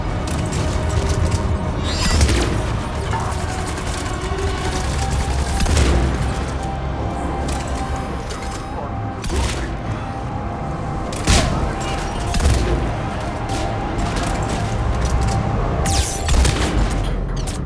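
Sharp gunshots and heavy booms from a Mass Effect combat scene crack out in scattered bursts over a steady loud backdrop, with brief voices now and then.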